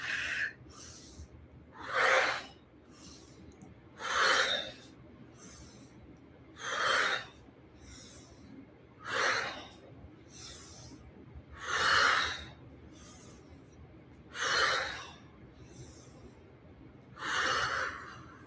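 Slow deep breaths during a guided breathing exercise, about eight long airy inhale-exhale swells at an even pace, soft and close, with no talking.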